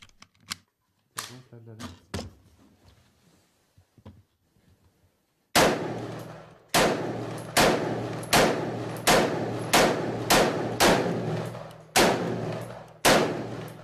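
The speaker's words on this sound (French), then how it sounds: "Le test se poursuit avec le fusil automatique." A 3D-printed automatic rifle emptying its 30-round magazine: a string of about ten loud, sharp cracks at a fairly steady rhythm, following quieter scattered knocks and faint talk.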